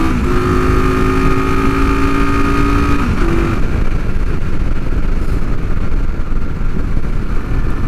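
A vintage Honda motorcycle engine revs hard while riding, a loud steady drone climbing in pitch and then shifting down into a rougher, noisier roar with strong wind rush, heard alone without talk.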